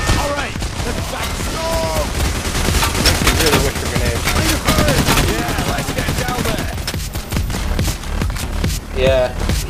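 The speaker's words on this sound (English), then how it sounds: "They're shooting us from behind." Enemies in the video game Payday The Heist fire dense, rapid gunshots during a diamond heist, a loud continuous fusillade with bursts of crackling shots and faint voices mixed underneath.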